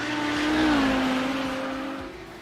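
A race car in a sim racing game holds a steady, droning engine note that rises slightly and then eases off. The engine sounds close and fairly loud.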